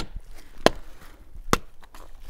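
Two sharp, dense thunks of a hatchet biting into a live tree trunk, spaced under a second apart, close and loud over faint outdoor background.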